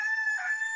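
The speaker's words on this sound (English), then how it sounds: "Get a rooster!" Rooster crowing once, a short, clear, sustained cock-a-doodle-doo heard alone, moderately loud and brief, within a radio advertisement.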